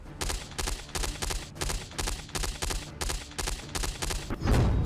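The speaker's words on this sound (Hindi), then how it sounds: "खामेनेई की पुलिस घरों पर गोलियां चला रही है।" Police gunfire aimed at houses during protests in Iran: a rapid series of about ten sharp, loud reports in a steady rhythm, with a heavier burst at the end and no voices.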